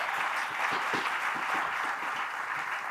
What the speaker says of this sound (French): Sidi, applaudissements encore.